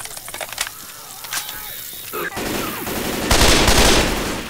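Bursts of automatic gunfire and mechanical clatter from Left 4 Dead 2 rattle close and loud, building into a denser, harsher stretch of shooting toward the end, without any talking.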